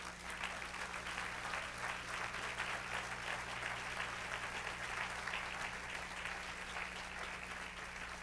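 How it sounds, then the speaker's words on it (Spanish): A church congregation claps together in a long, steady burst of applause, even in level and fairly distant, with a low electrical hum running underneath. "Dale un aplauso al Señor."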